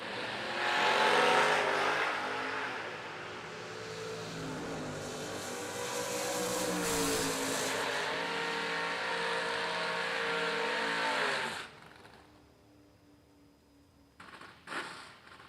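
A Chevrolet Cobalt and a Camaro launch side by side at a drag strip, loud engines roaring and holding a high, wavering pitch before fading after about eleven seconds, leaving quieter crowd and track ambience.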